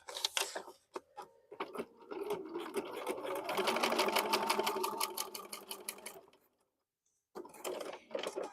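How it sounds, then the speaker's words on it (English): A sewing machine stitches fabric pieces together for a bunny project, a steady rapid mechanical whir that runs for several seconds, stops into silence, then starts again briefly, close by. "I'll sew this piece together and we'll get to it."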